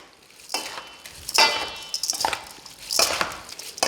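Spoon scraping and clinking against a bowl as lemon juice is stirred into stuffed vine leaf filling, in four short, fairly close bursts of mixing with quiet pauses between.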